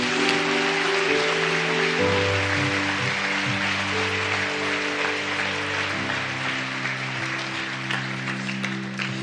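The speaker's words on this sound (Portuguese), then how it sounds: "Se você puder aplaudir o Senhor" A congregation at a national youth church conference applauds. The clapping is dense and continuous, like rain, and runs under sustained keyboard chords that slowly fade over about nine seconds.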